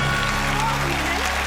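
A studio audience claps loudly and briefly under a game-show-style reaction, the applause mixed with a voice speaking over it before it cuts off abruptly.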